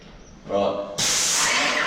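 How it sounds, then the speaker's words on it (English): A spray bottle mists liquid onto a window during paint prep, giving a sharp, loud hiss that bursts on suddenly and holds steady for about a second. "Now I've just sprayed on the window here."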